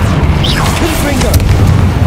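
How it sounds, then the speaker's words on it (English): A Confringo spell explodes in the Hogwarts Legacy game, a loud deep boom amid busy combat effects and whooshing sounds, with a person talking over it. "Confringo."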